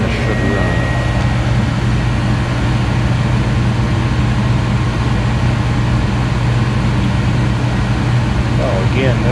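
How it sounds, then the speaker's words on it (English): A gas furnace running steadily, giving a constant low hum and broad airy rush that holds even throughout, with a person talking over it near the end. "That's how a gas furnace should run."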